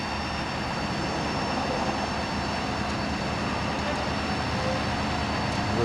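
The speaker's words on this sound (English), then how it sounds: "Now he's demonstrating the rotation of the bucket." Steady mechanical hum of a 2013 Ford F550 SD bucket truck's hydraulics as the bucket rotates, a constant droning engine-like whir with faint tonal lines, continuous and fairly close.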